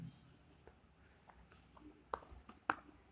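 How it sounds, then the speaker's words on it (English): Faint, sparse clicks of typing on a computer keyboard, with two sharper keystrokes standing out near the end in a quiet room. "I will type here"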